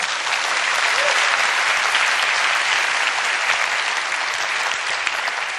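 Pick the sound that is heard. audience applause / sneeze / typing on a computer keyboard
audience applause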